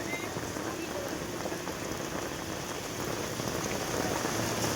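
Steady heavy rain pours onto street surfaces at a town crossing where water is pooling, a dense, continuous wash of drops with no pauses.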